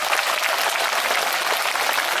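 Outdoor festival audience applauding at the 22nd Dongnae Eupseong Historical Festival, a dense, steady wash of many hands clapping at once, moderately loud and continuous throughout with no voices standing out.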